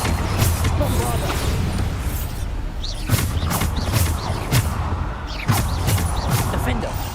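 Bombarda blasting spell in Hogwarts Legacy, booming bursts landing a few times over dense game noise and a constant drone, with a voice talking throughout.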